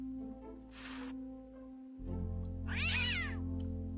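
A cat meows twice in the adventure game Day of the Tentacle Remastered: a short, bright cry, then a louder, longer wavering meow over a steady low game hum.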